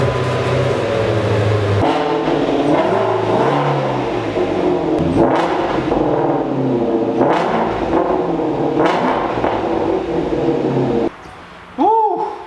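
A car is driven into a garage in the rain, its engine steady and close with a low hum and some revving, over rain and background noise, before a brief drop and a short clear tone at the end.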